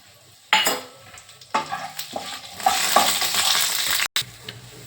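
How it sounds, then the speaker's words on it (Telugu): Coriander seeds and cumin hit hot oil in a kadai, bursting into loud crackling sizzle with scraping stirs, building steadily before a brief break and a quieter fizz. "ఒక స్పూన్ నూనె వేసుకొని ఇప్పుడు ధనియాలు జీలకర్ర వేసుకుందాం"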